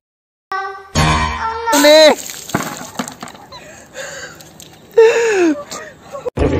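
Water from a bucket is dumped over a person during a fast challenge, giving splashing bursts amid gasps, whimpers and excited young voices talking and shouting close by.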